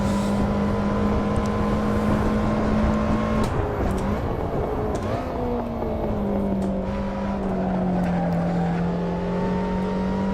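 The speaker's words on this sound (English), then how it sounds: "So really driving this car is about being smooth, maintaining speed through your corners and trying to get good exits onto the straights." Race car engine in the Assetto Corsa driving game, lapping the Magione circuit: a steady, loud motor drone holds pitch, dips briefly as if lifting for a corner, then resumes, continuous throughout with no talking.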